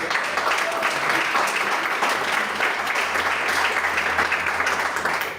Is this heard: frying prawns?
no